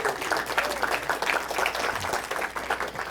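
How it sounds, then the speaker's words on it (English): Close, uneven clapping from a live audience at a stage show as a young girl is called up, loud and choppy, with some crowd murmur mixed in. "A big round of applause for this young lady"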